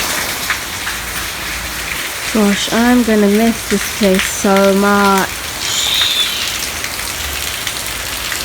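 Rain falls steadily at a house in Beani Bazaar, Bangladesh, a loud continuous hiss of drops on surfaces throughout, while a person talks briefly over it in the middle.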